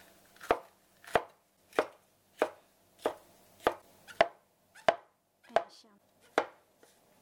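A knife chops through bell pepper on a board in about ten evenly spaced, crisp strikes, close up, with a brief word spoken.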